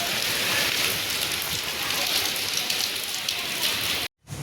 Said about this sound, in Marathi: एवढा पाऊस पडा लागला आहे लिटरली